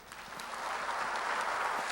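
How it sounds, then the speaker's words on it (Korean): Church congregation applauding, a dense, steady patter of many hands that swells slightly and holds alone without speech. "하나님께 박수 주시기 바랍니다."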